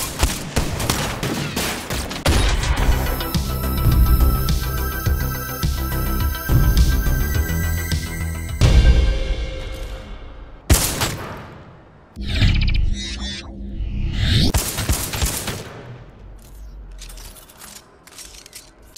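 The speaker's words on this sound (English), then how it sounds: "I remember first firing this handheld shotgun." Shotguns firing in FPS video games, ending with the handheld shotgun from Titanfall 2: a run of loud, close blasts with mechanical reload clatter, broken by short gaps, then a fresh burst of heavy shots.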